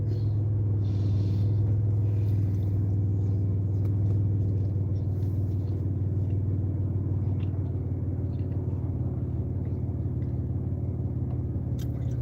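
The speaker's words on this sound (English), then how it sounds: "No one likes heavy traffic like this, but there's nothing we can do." Car engine rumbling while crawling through heavy traffic, a steady low droning hum heard from inside the vehicle, constant and unbroken throughout.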